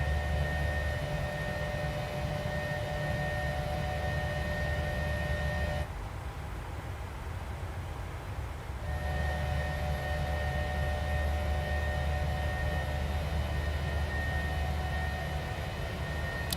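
Steady broadband roar of a PMDG 737-900 airliner's engines climbing out of New Chitose in a flight simulator, a continuous loud drone with tonal hums that dips quieter for a few seconds midway before resuming.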